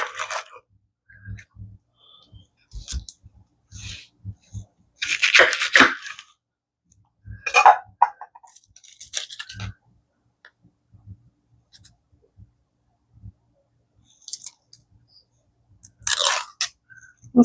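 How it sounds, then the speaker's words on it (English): Peeling and slicing a flat onion with a knife, close irregular crunches, papery tearing and crisp cutting taps scattered across quiet gaps. "So we're going to cut up our onion here."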